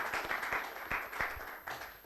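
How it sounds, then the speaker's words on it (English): Scattered applause from a small conference audience, a few distinct sharp claps at an uneven pace that fade in and out over about two seconds. "Let's just give him another round of applause."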